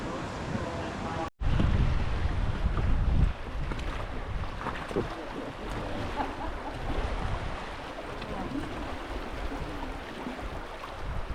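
White water rapids rush through Ausable Chasm in Upstate New York during a river raft trip, a loud, continuous churning roar with wind buffeting the microphone and a brief cut near the start.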